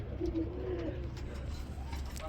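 A single soft coo from Bombay lahori and rajgolla breed pigeons rises close by and then fades into a low murmuring background.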